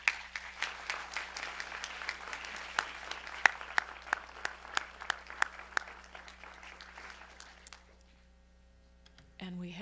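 Scattered, fairly faint applause at a university research awards ceremony, sharp individual claps standing out as it gradually thins and fades out, then a voice begins speaking; no clear shouting stands out.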